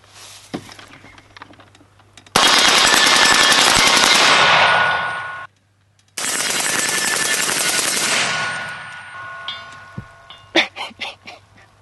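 An M16-style rifle fed with Tula ammunition and fitted with an Alamo-15 semi-auto trigger fires two long, loud, rapid strings of shots at an outdoor range, followed by a few scattered single reports.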